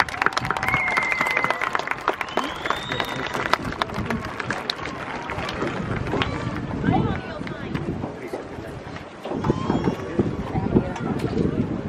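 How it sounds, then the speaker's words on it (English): Applause for graduation speaker Jacob at an outdoor high school graduation, a broad, steady crowd clapping with wind buffeting the microphone and voices mixed in. "let's give Jacob another round of applause"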